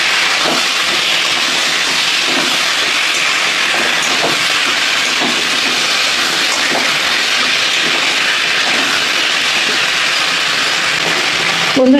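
Vegetables frying with ginger-cumin paste in a pan, a loud, dense, constant hissing sizzle held evenly for the whole stretch, close up, with faint scraping underneath.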